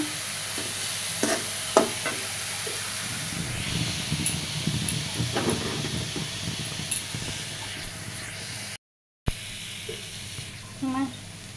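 Leafy greens (saak) stir-frying in a pan, drying out as they fry, with a steady low sizzle and hiss. Scraping stirs come at intervals, and a brief silent gap falls near the end.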